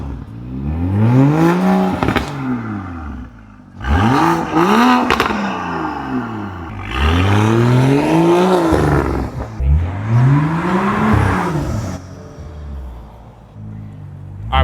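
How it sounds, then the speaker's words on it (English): A Ford Mustang 5.0 with an issue-prone engine revs hard through its intake in four loud, close bursts, each climbing and dropping in pitch with a roaring, clattering edge and short pauses between. "listen to that intake. It sounds insane."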